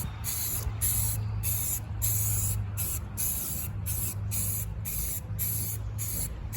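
Rust treatment is sprayed onto the body of a 1946 Jeep CJ2A in short, close, hissing bursts separated by brief pauses, repeating about nine times.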